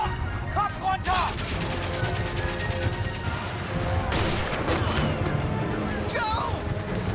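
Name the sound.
sniper gunfire in the video game 11-11 Memories Retold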